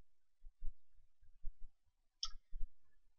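A few soft mouse clicks, single and spaced apart, near and quiet with low thumps around them, in a quiet room with no talking.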